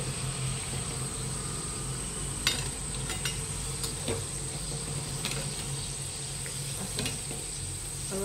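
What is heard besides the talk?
sanjori frying in hot oil, oil spooned over it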